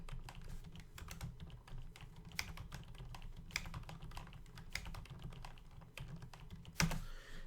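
Quiet clicking on a computer keyboard, irregular keystrokes close by with a sharper tap near the end, over a low background hum.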